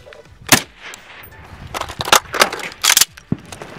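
Rifle shots fired at a hard-to-see long-range target about 450 away during a team shooting competition: several sharp, loud bangs spaced irregularly, with quieter movement sounds between them.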